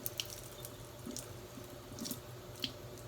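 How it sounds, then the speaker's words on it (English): Running tap water rinses the outside of a freshly picked pumpkin blossom at a sink, a steady faint hiss and splash with a few brighter drips and splatters breaking through. "I'm going to rinse the outside."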